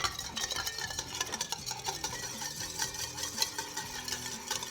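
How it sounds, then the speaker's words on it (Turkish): Egg yolks with vinegar, salt and oil whisked briskly in a bowl, a rapid rhythmic clatter of the whisk that continues steadily throughout, up close and with no speech. "Şu an bunları çırpıyoruz."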